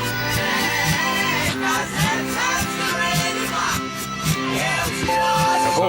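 A song plays in reverse, a steady swirl of backwards music with a pulsing, regularly repeating beat and smeared vocal tones throughout.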